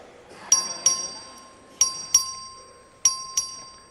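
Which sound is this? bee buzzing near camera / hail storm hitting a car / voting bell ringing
voting bell ringing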